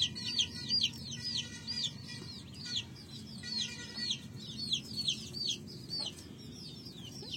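Country hens clucking steadily on a natural free-range farm, with a rooster among them; repeated calls sit at moderate distance over a constant low background hum.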